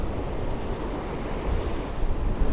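Choppy sea waves roll in during Storm Gerrit at Blackpool, a dense continuous roar of surf mixed with heavy wind buffeting the microphone, building slightly louder toward the end.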